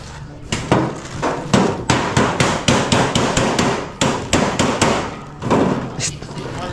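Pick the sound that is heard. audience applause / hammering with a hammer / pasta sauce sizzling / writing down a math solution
hammering with a hammer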